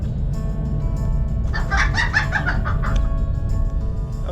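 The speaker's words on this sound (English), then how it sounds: "There's a truck right there full of chickens." A truckload of chickens clucks and squawks in a busy cluster, fairly near, over a constant low rumble of traffic or engine noise.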